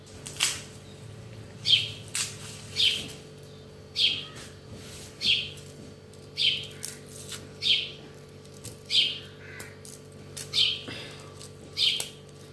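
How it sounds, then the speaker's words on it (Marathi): Short sparrow chirps repeat at a steady pace, roughly one per second, clear against a faint steady hum with no voices. "चिमणी मस्त गौरवली काय म्हणते काय माहिती"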